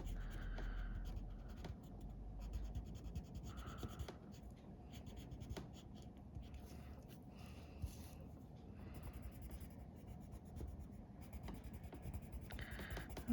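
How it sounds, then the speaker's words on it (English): Pencil crayon or marker rubbing back and forth on a Santa greeting card, a soft, steady scratching in quick repeated strokes, close and quiet with no talk. "we're just coloring in nicely"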